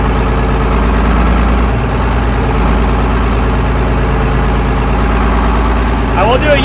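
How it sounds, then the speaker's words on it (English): A 1950s Mack truck with an air-cooled engine runs at a steady idle, a loud, continuous low rumble that holds throughout, with a short rising whine near the end. "Right now we're running an air-cooled engine."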